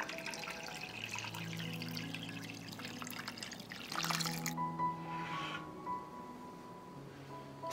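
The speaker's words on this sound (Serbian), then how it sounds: "Sipat ću vodu u šerpu do visine poklopca." Water poured into a pot lined with a cloth and packed with glass jars, filling it to lid height for canning; a close trickling pour with a splashy surge partway, then quieter running water.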